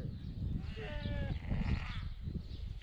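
Ewes bleating in a farm yard, several overlapping calls from a penned flock at moderate distance over a steady rumble of background noise.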